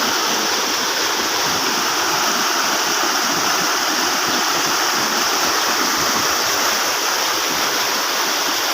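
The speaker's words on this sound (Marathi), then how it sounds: "पाणी याच्यावरनं जातं या रस्त्यावरनं, आणि पाणी असं त्या साईडला पडताना खाली येतं." Heavy monsoon rainwater rushing across and down past a road in Konkan, a loud, steady roaring torrent that stays constant throughout.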